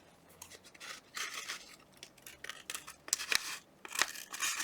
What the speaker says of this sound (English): I want to cut down the side though.